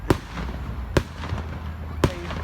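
Fourth of July fireworks burst outdoors as three sharp, booming explosions roughly a second apart, fairly distant, over a steady rumbling background.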